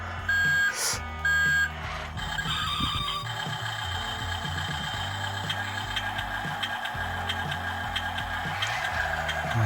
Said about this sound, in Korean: 후진할 때 경보음도 같이 울려주는 걸 보실 수 있습니다.